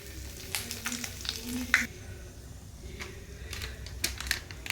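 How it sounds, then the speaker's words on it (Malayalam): Curry leaves and dried red chillies hit hot oil with mustard seeds while tempering for sambar, giving a soft, crackling sizzle with scattered sharp pops, close but fairly quiet. "കറിവേപ്പില ചേർത്ത് ഉണക്കമുളക് ഇട്ട് കൊടുക്കുക"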